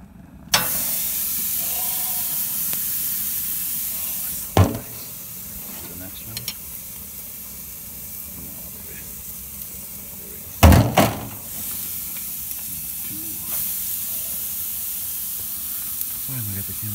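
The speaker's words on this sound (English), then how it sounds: "I was able to get the patty off so you guys can hear the sizzle." A constant soft sizzle hisses from a burger patty on a hot Weber Spirit II E-210 grill, broken by a few loud clanks and thumps, with a brief voice now and then.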